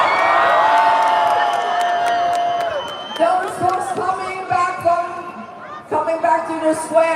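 A large outdoor crowd at a Portugal vs Spain World Cup watch party in Nathan Phillips Square, Toronto, cheers and whoops steadily, with a nearby voice talking over the crowd noise.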